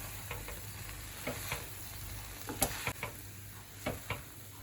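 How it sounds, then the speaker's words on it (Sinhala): Two spoons mix cheese chicken koththu with leeks, giving scattered light metallic clicks and scrapes in an irregular rhythm over a faint background sizzle, close and moderately quiet. "හැඳ දෙකක් ආධාරයෙන් හොඳට අපේ කොත්තුව මිශ්‍ර කරගන්න"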